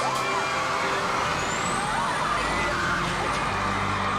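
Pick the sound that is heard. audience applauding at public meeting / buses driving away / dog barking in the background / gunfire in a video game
buses driving away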